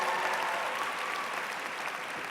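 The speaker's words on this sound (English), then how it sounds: "let's give a special round of applause for all the families here today" A large commencement audience at Spelman College's 2011 graduation applauds the families, a dense, even wash of clapping from a big crowd that carries steadily without pause.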